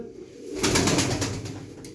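Tumbler pigeons coo in a soft, close murmur, a low rolling coo that swells after the first half second and continues steadily to the end.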